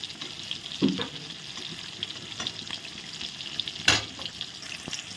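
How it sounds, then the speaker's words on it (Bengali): Eggplant slices fry in hot oil in a pan, a steady close sizzle with a couple of sharper clinks or flips along the way. "দেখো বেগুনগুলো ভাজা হয়ে গেছে"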